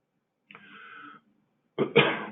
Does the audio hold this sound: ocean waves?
no